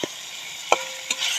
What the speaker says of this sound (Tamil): இப்போ வெங்காயம் பச்சை வாசனை போற வரைக்கும் கிண்டிக்கலாம்.